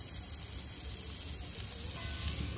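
Onion with a pinch of salt frying in a pan, a dense continuous sizzling hiss close by, steady and without pause.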